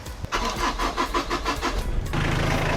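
A Mitsubishi Strada 4x4 pickup truck engine cranks with a rapid rhythmic starter churn, then catches and settles into a steady low idle, close by.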